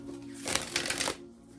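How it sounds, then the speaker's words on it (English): A deck of tarot cards is riffled and shuffled in one quick burst of crisp papery flutter that fades into quiet, close by with no speech. "I haven't even shuffled the cards for real"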